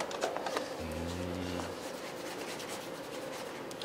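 Wax is rubbed by hand over the soldered seams of a stained glass piece, a soft continuous scratchy rubbing close up, joined briefly by a low hum.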